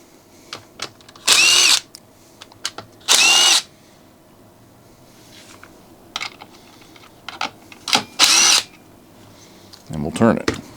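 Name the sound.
power drill removing fan housing screws on Homelite 330 chainsaw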